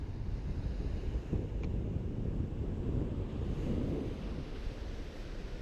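Steady wind buffeting a microphone on a beach, a continuous low roar with a faint wash of surf beneath it, with no voices.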